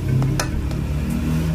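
Beef and yogurt fry in a pan over a medium flame, giving off a continuous close sizzle broken by a few light scrapes and clinks from stirring.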